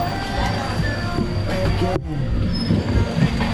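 An electric tram runs at Tad Kwang Chi waterfall in the rainy season, rumbling and rattling steadily with a loud mechanical whine, while people talk nearby.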